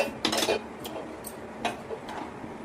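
A spoon stirs Hyderabadi pumpkin kheer (kaddu ki kheer) in a pot while the sugar melts, giving a few light metallic taps and scrapes against the pot's sides over a quiet background.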